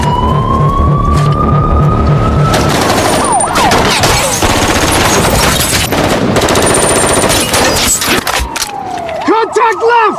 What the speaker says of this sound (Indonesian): memaksa terjadinya baku tembak sengit di lokasi.